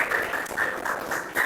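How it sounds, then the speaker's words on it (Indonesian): A classroom applauding a student group, a burst of mixed hand clapping from many people that pulses unevenly over a second and a half, moderately loud with no speech over it. "Oke, tepuk tangan untuk kelompok"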